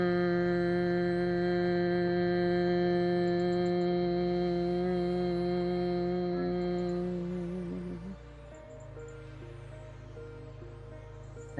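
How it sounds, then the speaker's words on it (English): A person hums with closed lips in yoga bumblebee breathing, a steady, sustained drone that holds one pitch, drops lower partway through and then fades slightly near the end, close and alone. "making a humming sound like a bumblebee."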